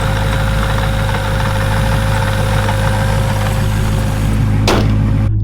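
A supercharged car fitted with a new triple-disc clutch runs its engine in a loud, steady, close drone with a constant low hum throughout and a single sharp knock near the end, with no voices.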